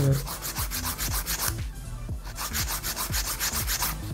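A fingernail being filed with the 100 grit side of a 100/180 grit nail file, quick rhythmic rasping strokes in close succession with a brief pause midway, close and clear.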